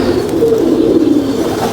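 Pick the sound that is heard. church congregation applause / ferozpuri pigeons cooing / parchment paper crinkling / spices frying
ferozpuri pigeons cooing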